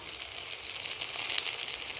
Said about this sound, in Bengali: আমি হলুদ না দিয়ে বেগুনটা ভাজছি